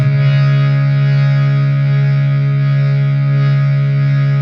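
The notes Sa and Pa sound together as one steady, sustained, harmonic-rich drone with no gaps, held at an even level and free of speech.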